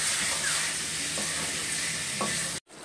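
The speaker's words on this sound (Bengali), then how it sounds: "দিয়ে এখন মশলাটা ভালো করে কষিয়ে নেব।" Mutton with whole garlic cloves and spices fries in a pan, a steady close sizzle and hiss with a couple of faint stirring scrapes, ending in an abrupt cut to near silence.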